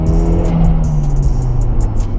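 A stock Nissan S13 200SX accelerates in the rain, its engine droning with a rising tone under steady road and wind noise, heard from inside the car with faint ticking sounds over the top.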